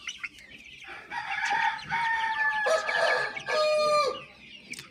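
A rooster from an all-black flock crows several times, long drawn calls standing out close and loud, with clucking and other fowl sounds around it and no talk.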